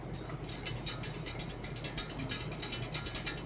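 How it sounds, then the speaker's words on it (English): A whisk scrapes and clicks steadily against a metal pot on the stove as butter sauce is beaten, a fast, continuous rattling rhythm heard up close with no speech. "You wanna constantly keep whisking this to make sure that it doesn't split."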